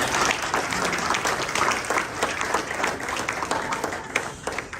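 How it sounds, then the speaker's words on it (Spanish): Sustained applause from a church congregation, dense and steady clapping filling the room for nearly five seconds at even loudness. "Gracias por los aplausos."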